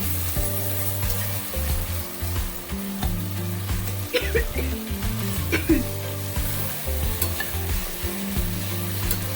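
Beans, then soybeans, sizzle steadily in a hot pan while being stirred, with a continuous close frying hiss and scraping stir strokes throughout, no talking.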